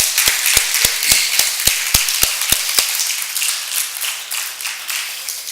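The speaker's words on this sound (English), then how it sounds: "Teens, can we give these a round of applause, please?" Audience applause at a youth camp event, a burst of loud, sharp claps at first that thins into a softer, scattered patter over about five seconds, with no voices over it.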